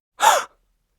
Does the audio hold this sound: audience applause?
no